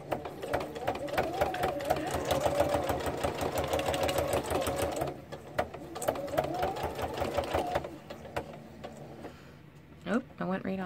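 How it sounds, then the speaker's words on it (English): A sewing machine stitching in a craft setting, fast rhythmic needle chatter in steady runs with a short pause partway, someone talking over it at times. "Should be easy for me to achieve the messy stitch look with the machine 18 inches away from me."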